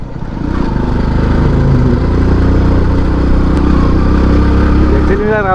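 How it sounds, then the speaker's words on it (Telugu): A TVS Excel motorcycle engine runs loud and steady close up, a continuous droning hum as the rider shifts into third gear on the road. A voice briefly rises near the end. "నేనైతే ఇప్పుడు థర్డ్ గేర్లో ఎక్కిస్తున్నా బైక్ని."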